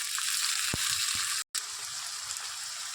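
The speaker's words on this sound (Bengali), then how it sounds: "এর সাথে আমি একসাথে ভেজে নেব" Shrimp sizzle steadily in hot oil with chopped onion, garlic and slit green chili, a continuous bright frying hiss with brief spatters and one short gap.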